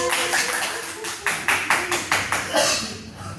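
A classroom group claps in short uneven bursts, several separate rounds of hand claps with a brief louder flurry near the end, while a teacher's voice is heard faintly.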